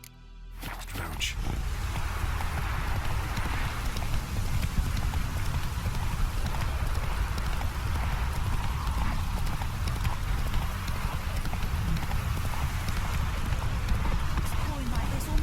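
Hooves of the horse Roach galloping in The Witcher 3, a fast, steady clip-clop rhythm running continuously beneath a voice talking over the game.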